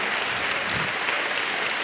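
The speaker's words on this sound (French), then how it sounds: "si vous pouvez un tonnerre d'applaudissements pour elles et eux" An audience at a mentoring launch ceremony gives a steady, full burst of applause that stays at an even level throughout the clip.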